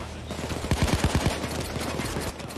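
Gunfire in the video game Payday 2: a quick, rapid burst of about six sharp shots in the middle, set against a steady, busy background din.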